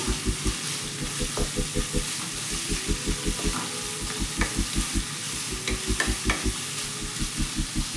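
Onions fry in a pan for a Karnataka-style tomato chitranna, making a sizzling hiss over a regular rhythm of soft thumps and scrapes from steady stirring, close and alone without speech.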